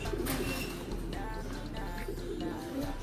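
Soft cooing and chirping of an African lovebird, moderately close, over a steady low background hum.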